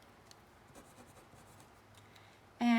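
A pen or pencil writes on graph paper with soft, quiet scratching strokes for several seconds, then a sudden loud tonal burst cuts in at the very end.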